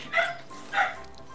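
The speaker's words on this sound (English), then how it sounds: "Go and tend to your dog, Brittany." A dog in the Minecraft video game barks twice, two short clear yaps about half a second apart, close and fairly loud.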